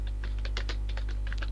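Fingers tap out quick bursts of keystrokes on a computer keyboard, a close, rapid clatter of clicks over a steady low electrical hum.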